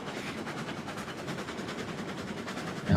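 A moving steam train in the railway game Railroads Online rolls along with a steady, continuous rumble and faint rhythmic clatter, fairly quiet and unbroken, with no talking.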